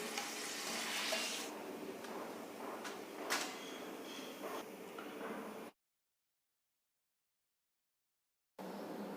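Sliced potato chips fry in hot oil in a pan, a steady bubbling sizzle with stirring clatter, followed by a stretch of silence before the sizzle returns.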